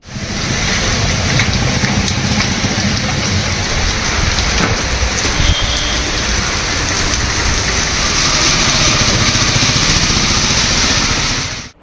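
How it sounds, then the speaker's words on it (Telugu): Heavy cyclone rain pours down steadily in Warangal, a dense, loud hiss and patter that fills the whole stretch without pause, with a faint engine-like rumble underneath. "ములుగు, భూపాలపల్లి జిల్లాల్లోనూ వర్షాలు బీభత్సం సృష్టిస్తున్నాయి."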